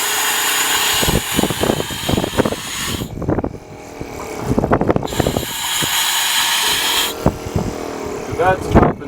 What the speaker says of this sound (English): I'm going to wake the Brownie up for a minute just so you can hear that variable speed system.